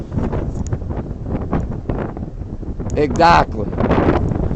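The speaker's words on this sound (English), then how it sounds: "Hold on, getting very windy." Strong gusts buffet the microphone outdoors in New York City, with rough, uneven wind rumble under a man's speech and a louder blast near the end.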